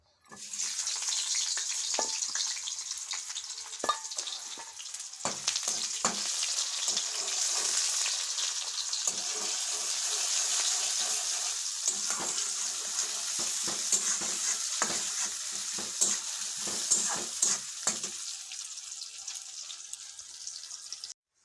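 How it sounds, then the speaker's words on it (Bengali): Chopped onions sizzle in a hot kadai, a dense continuous frying hiss running throughout with occasional light scrapes and clinks of stirring, no one talking over it. "কড়াটা গরম হয়েছে পেঁয়াজ কুচি দিয়ে দেবো"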